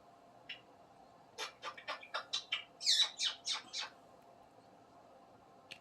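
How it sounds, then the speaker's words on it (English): A small bird chirps indoors: one short tweet, then a quick run of about a dozen sharp chirps, moderately close in a quiet room. "Hey, Smokey the bird."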